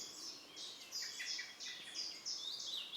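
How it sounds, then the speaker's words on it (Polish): Eurasian blackbird calling in a forest: a series of high, thin call notes repeating every half second or so over a steady faint hiss, with no voices. "Kosy wydają ten charakterystyczny dźwięk"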